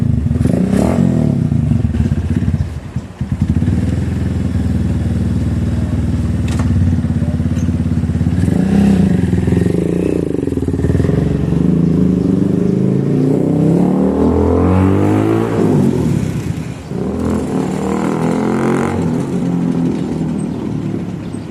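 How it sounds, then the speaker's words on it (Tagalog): A Rusi motorcycle engine is test-run before being sold, idling with a clattery thump and then revved up repeatedly in rising, loud close bursts, with a brief dip early on. "testing na natin yung motor bago ibenta"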